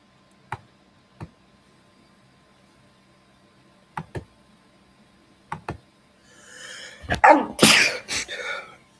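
A sneeze bursts out near the end, loud and close and followed by a brief noisy rustle, after a few faint ticking clicks during a quiet stretch of watching a Uruguay versus Spain football match.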